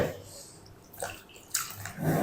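Bitter gourds (karela) being washed and rubbed by hand in water, with splashes, drips and sloshing in short bursts close by in a kitchen setting.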